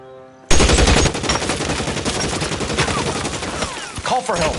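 Rapid bursts of gunfire from a shootout in L.A. Noire, a sudden loud volley of repeated shots erupting after a brief quiet lead-in and continuing densely, close and harsh, with a short shouted voice near the end.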